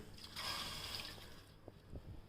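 A glass of water poured into a pressure cooker holding mutton with turmeric and salt, a brief bright splashing rush that fades into a few soft drips, faint and close.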